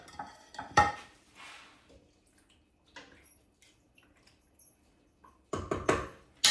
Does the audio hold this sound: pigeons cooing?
no